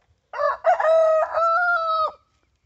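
A rooster crows once among hens, a close, clear cock-a-doodle-doo with a short broken opening and a long sustained final note, then silence.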